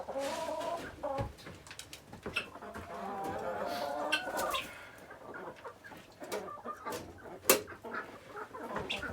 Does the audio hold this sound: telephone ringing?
no